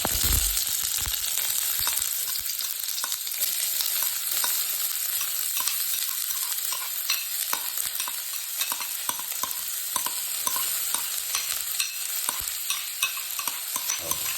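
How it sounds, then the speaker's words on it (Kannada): Three chopped onions fry in two or three spoons of oil in a pan, giving a steady, close, continuous sizzle with faint scraping and crackles throughout and no talking. "ಈಗ ಆನಿಯನ್ ಹಾಕೊಂಡಾಯ್ತು. ಈಗ ಇದನ್ನು ಸ್ವಲ್ಪ ಹುರ್ಕೊಳ್ಳೋಣ"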